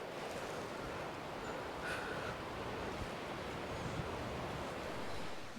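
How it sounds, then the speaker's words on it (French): Strong wind blows through creaking trees, a steady broadband roar and rushing gust noise buffeting the microphone throughout, with no distinct voices. "Regardez un peu le vent"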